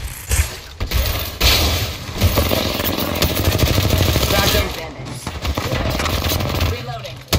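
Apex Legends Season 13 gunfire, a dense rapid automatic rattle sustained for several seconds with sharper bursts around it, loud and close, with players talking over the shooting.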